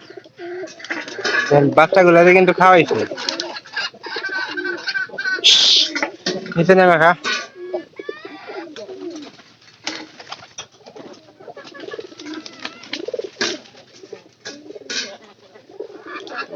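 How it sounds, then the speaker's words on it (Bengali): Pigeons in a crowded loft, birds perched high and low while young ones are being fed, give off bursts of cooing and wing flutter, loud and close, with a person talking over them throughout. "উপরে আছে নিচে আছে সব জায়গাতেই মনে করেন যে খালি কবুতর আর কবুতর।"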